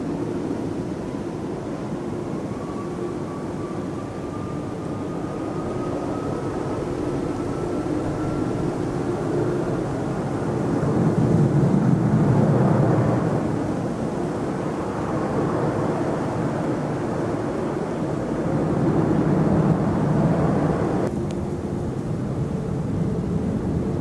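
Jet airliners such as 747s, A350s, 777s and A330s take off at Hong Kong Airport, giving a steady loud engine roar with a rising whine that swells and fades over about twenty seconds.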